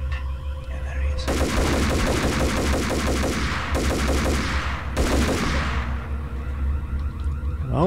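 Video game gunfire from Max Payne comes as two long, loud bursts of rapid automatic fire, the first about two and a half seconds and the second about a second, each trailing off into a short echo.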